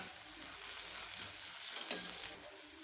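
Chopped onion and tomato are being sautéed together in a pan, giving a soft, steady sizzle with faint stirring scrapes in the background.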